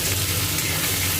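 Tomato and green chillies dropped into a pan of fried onions, giving a continuous close, fairly loud sizzle and crackle of frying.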